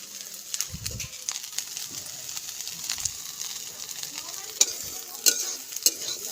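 Prawns and fish fry in hot oil, giving a steady close sizzle with occasional stirring clinks and light scraping and no clear speech.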